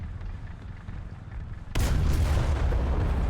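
A tank in the video game War Thunder explodes and throws its turret: rumbling battle ambience breaks into a sudden loud, deep boom that carries on as a sustained roaring blast, with no speech.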